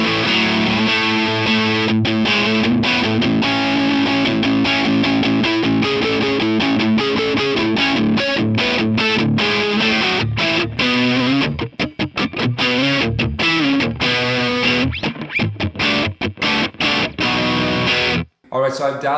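Electric guitar on the neck pickup with the tone knob at 12, driven through an overdrive pedal, plays a sustained melodic line with bright distorted harmonics, loud and alone until a few choppy notes and a short gap near the end.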